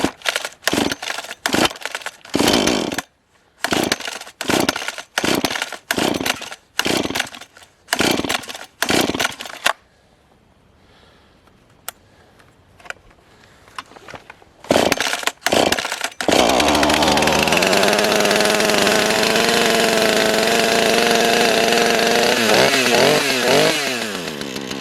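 A chainsaw is started with a series of sharp, repeated cord pulls and brief pops, then a quieter pause, before the engine catches and runs loud and steady at full throttle, with a few revving wobbles near the end.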